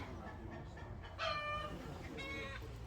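Chickens near a rural village home give a few faint clucks and short calls over a steady low background rumble, sounding somewhat distant, with no clear talk over them.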